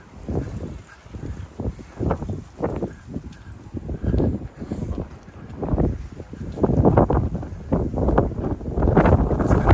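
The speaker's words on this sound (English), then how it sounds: "Even that bike blew over. That's how windy it is." Strong, gusty wind in Kinuta Park, Tokyo, buffeting the microphone in repeated rumbling bursts that grow louder and more constant toward the end.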